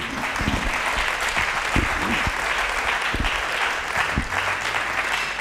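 A church congregation applauds during a sermon, loud continuous clapping with sharp individual claps standing out, keeping up for several seconds with occasional voices mixed in.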